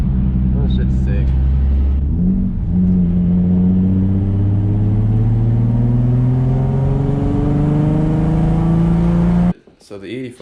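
Nissan 380Z car engine running on E85 fuel revving up from idle, a loud, close mechanical drone that climbs steadily in pitch over several seconds before cutting off abruptly.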